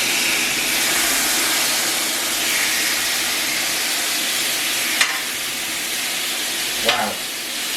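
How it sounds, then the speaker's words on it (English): Chicken tikka sizzles loudly and steadily on a searing hot grill plate, a continuous broad frying hiss that fills the scene, with a couple of sharp clinks or scrapes near the end. "Absolutely searing hot grill plate."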